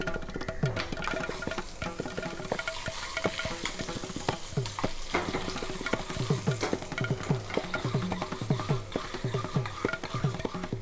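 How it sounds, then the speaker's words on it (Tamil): Cashews, mustard seeds, urad dal and chana dal roast in hot oil, sizzling steadily while a spoon scrapes and stirs the pan in a quick, repeated rhythm. "முந்திரி பருப்பு கொஞ்சம் கடுகு உளுத்தம்பருப்பும் கடலைப்பருப்பும் வறுத்து போடுவோம்."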